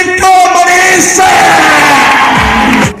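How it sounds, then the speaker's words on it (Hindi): A large crowd at an open-air meeting roars with cheering, yelling and whooping, a loud, dense wall of voices that holds steady for about three seconds. "एक बार पूरे शोर और हंगामे के साथ जबरदस्त तालियों के साथ बिग हैंड"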